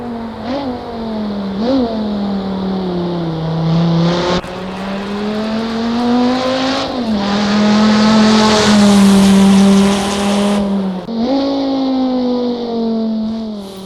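A very fast American road car with an H-pattern shifter, racing through a chicane in a sim race: a loud engine held high, revving up and dropping back through shifts, up close with a brief tire squeal.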